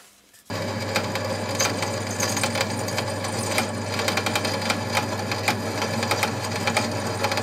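An electric drill bores steadily into a steel Allen screw during a Vespa PX gear selector repair, giving a continuous close grinding whir with rattling, unbroken after it starts.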